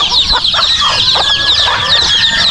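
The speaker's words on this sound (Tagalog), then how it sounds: "may manok din dito" Farmyard chickens cluck steadily and close by, overlapping calls in quick irregular bursts, with no voices present.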